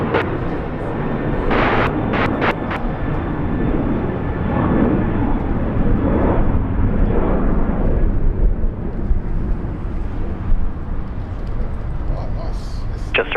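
An airliner taking off from runway 19 right at Brisbane Airport, its engine roar rising into a broad, continuous rumble with sharp clicks and bursts, while people talk over it throughout.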